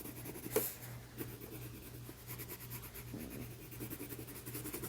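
Colored pencil scratching across paper while coloring in a drawing of a cucumber, soft, close strokes in a quick steady back-and-forth rhythm with a few sharper taps.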